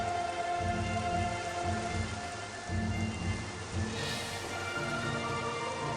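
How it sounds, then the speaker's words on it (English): Rain patters steadily in Metroid Prime Remastered, a dense and continuous hiss of drops with a low rumble beneath it, loud and unbroken throughout with no speech. "rain pattering"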